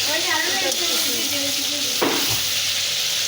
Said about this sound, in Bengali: এখন আমি খুন্তি দিয়ে নানা নাড়াচাড়া দিয়ে নেবো